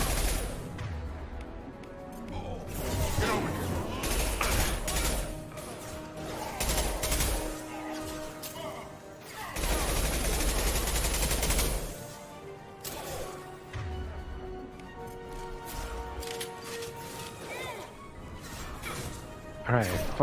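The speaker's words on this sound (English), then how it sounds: "this is the worst minigun throughout the entire game" Minigun firing in Mass Effect 2, long sustained roaring bursts of rapid fire with crashing impacts, broken by pauses, loud and close, while someone talks between volleys.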